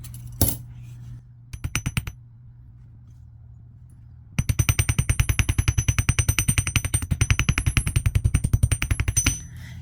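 Rapid metal-on-metal hammer taps texture jewelry wire for beginner wire-wrapped reverse teardrop earrings, a short burst of strikes, a pause, then a long steady run of close, loud, evenly spaced blows.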